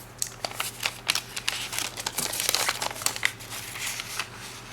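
Sheet of origami paper folded edge to edge and creased while shaping a waterbomb base, giving close, crisp crinkles and rustles in quick irregular bursts.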